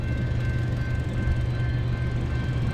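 A westbound BNSF train rumbles past nearby with a steady low drone and a faint high tone, continuous and loud throughout.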